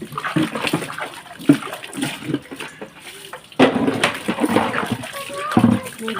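Household utensils get washed and rinsed by hand, with water splashing and sloshing in short bursts and metal pieces clattering now and then, while someone talks over most of it.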